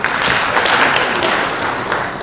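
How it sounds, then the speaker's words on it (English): Loud, steady applause from a crowd in a hall during a business talk, dense clapping filling the whole moment without pause. "Please clap for him."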